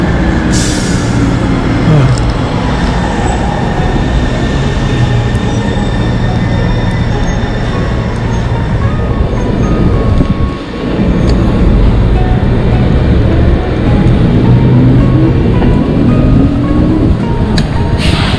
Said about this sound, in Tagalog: may bago na naman tren